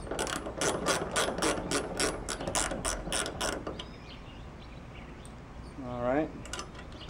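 Ratcheting clicks from a screw being driven in on a 1962 Chevy Grumman, a quick regular series of sharp mechanical ticks for about four seconds, then quieter, with a brief rising squeak near the end.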